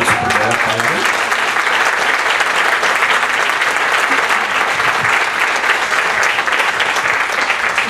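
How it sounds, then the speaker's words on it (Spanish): Sustained crowd applause fills a concert hall honoring a singer's son, loud and dense throughout with steady clapping and scattered voices underneath. "un aplauso por favor para él."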